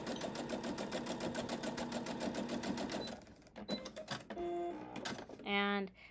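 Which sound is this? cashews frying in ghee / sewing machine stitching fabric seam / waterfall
sewing machine stitching fabric seam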